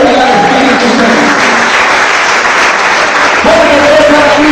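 A church congregation applauds during a Spanish-language service, a loud, steady roar of clapping with sustained voices or tones rising over it at the start and end.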